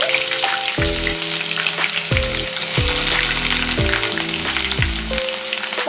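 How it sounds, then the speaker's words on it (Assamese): Onions fry in hot oil with bay leaves for a broiler chicken dish, a constant bright sizzle and crackle under a backing of repeated tonal music notes. "লগতে মই এতিয়া পিঁয়াজ দি দিম।"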